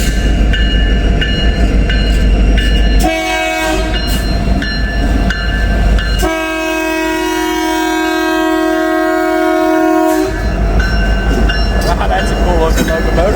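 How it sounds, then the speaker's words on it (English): A locomotive passes close by on the line near a rail yard, its engine rumble steady throughout while loud horn blasts sound in several long bursts. "Locomotive right there."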